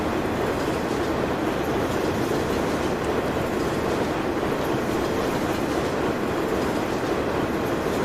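Train rumbles past in the Farming Simulator 19 video game, a loud, steady roar of wheels and cars that continues without a break and with no speech over it.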